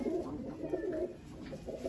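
Soft, low cooing from Teddy pigeons repeats continuously, murmuring close by with no speech over it.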